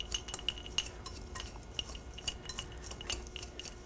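A utensil scrapes and clinks against a bowl while a dry spice rub is mixed with Colman's mustard for pork spareribs; soft, irregular taps and chinks repeat steadily at a low level, with no talking.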